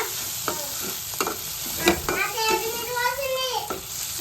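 Curry sizzles and fries in a pan while a utensil scrapes and stirs it, with a voice audible partway through.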